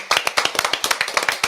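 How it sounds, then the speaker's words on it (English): An audience claps their hands in a quick, steady burst of sharp, close claps, with no talking over it. "we're going to give you another hand clap"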